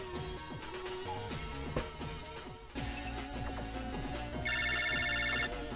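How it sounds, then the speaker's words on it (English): A landline phone rings in Mega Man Battle Network 5, a synthesized electronic ringtone with a rapid repeating trill entering near the end over steady game music. "Land phone call."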